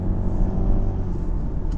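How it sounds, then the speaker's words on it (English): A 2023 MINI Countryman Cooper S accelerates in sport mode, heard from inside as a steady engine drone and rumble with a smooth whir and no voices. "stick it in sport, stick the gearbox across, put your foot down, car wakes up."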